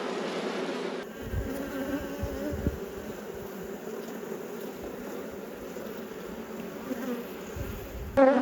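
Honey bees buzz densely on a brood frame lifted from a large hive, a close continuous drone with a sharp change near the start and a bump at the very end, no voices.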